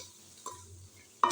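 Masala for a moong dal with green onions stirred in a pan over heat, a soft scraping stir with a light sizzle beneath, then a sharper clink of the spoon at the end; no one speaks.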